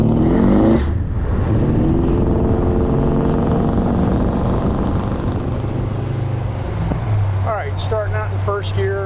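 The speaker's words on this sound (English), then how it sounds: "Starting out in first gear and mashing the throttle, you get wheel spin" A modified 1949 Chevy 3800 truck accelerates hard from a standstill in first gear, its engine note climbing steadily and loud inside the cab, with wind noise and a voice briefly present near the end.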